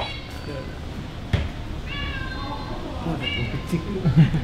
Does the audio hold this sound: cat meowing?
yes